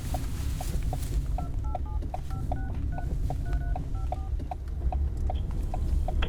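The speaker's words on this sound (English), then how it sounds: "I'll punch in his number at the red light" Keypad tones of a phone number being punched in, a quick string of short beeps in an irregular rhythm, over a steady low background rumble as if inside a car at a red light.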